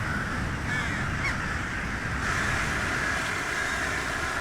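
A huge winter flock of tens of thousands of crows cawing as they stream down into a bamboo grove to roost, a dense, constant chorus of overlapping caws with a whooshing rush of wings, fairly loud and close.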